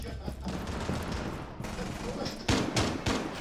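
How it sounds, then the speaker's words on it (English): Bursts of gunfire in a video game, a crackling volley followed by several sharp louder shots near the end, with voices chatting in the background. "They're using guns now, dude."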